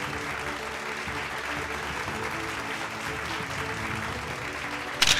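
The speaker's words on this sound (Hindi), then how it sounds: "जोरदार तालियां हो जाएं गोविंद नारायण सिंह" An audience at an education conclave applauds Govind Narayan Singh as he comes to the stage to be honoured. The clapping is steady and dense throughout, with a faint crowd murmur and music underneath.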